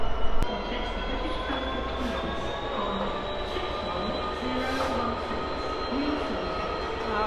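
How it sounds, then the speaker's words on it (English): Very long train passing through Basingstoke station: steady rumbling and rolling wheel noise with faint metallic squeals and a rhythmic clatter, continuous and moderately close, with no talking. "Very, very long train."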